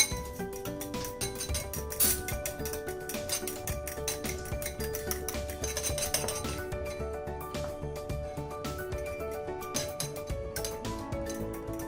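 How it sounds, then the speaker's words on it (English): Four eggs beaten in a bowl, a fast run of light clinks and taps of utensil on the bowl, close and steady with no talking. "I have taken 4 eggs over here. I'll beat them."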